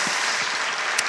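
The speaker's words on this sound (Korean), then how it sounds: "다시 한번 하나님께 박수로 감사 영광합니다." A church congregation applauds during a Sunday worship service, a steady wash of many hands clapping for about a second, with no talk over it.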